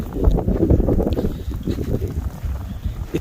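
Strong wind gusting during a New Jersey snowstorm and blizzard, a loud, rumbling low roar that surges and eases in uneven bursts, with no voices.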